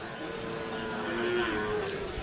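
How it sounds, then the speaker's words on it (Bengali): A single drawn-out cow moo rises and fades at a village cattle market, heard at moderate distance over a constant bed of crowd and market noise. "দেখেন কত বড় গরু"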